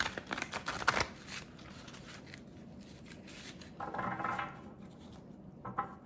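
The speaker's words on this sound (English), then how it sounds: "And so I will be cutting these cards" Soft flicking and riffling of slippery tarot cards being cut and handled, a few quick slippery bursts with quiet pauses between, close and faint, no talking.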